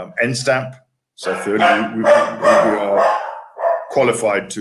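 Household dogs bark in a few sharp bursts close by, overlapping a man's steady speech, then the talking continues as the barks fade out.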